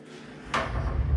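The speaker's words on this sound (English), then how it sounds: "you can close the door" A bathroom door swings shut in a furnished rental apartment, a single soft thud about halfway through over quiet room tone.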